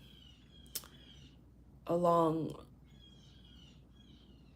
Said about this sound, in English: Y'all, can y'all hear those birds?